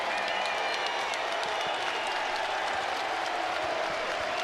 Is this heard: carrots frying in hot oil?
no